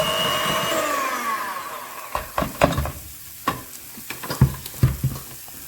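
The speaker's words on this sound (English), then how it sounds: "So I'll give it a quick mix with this, and we're looking for a breadcrumb consistency." Butter is worked into flour in a bowl for savoury scones until the mix looks like breadcrumbs: a steady whirring hum at first, then irregular close scraping and knocking strokes.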